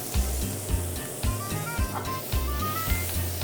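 Garlic sizzles in melted butter in a pan, a close, crackling fry with soft pops and brief stirring scrapes in a quick uneven rhythm.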